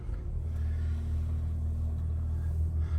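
A Volvo XC90 2.0 T6 Inscription Pro automatic 4WD sits with its engine running, a steady low rumble and smooth hum heard from inside the cabin, even and unchanging, with no talk.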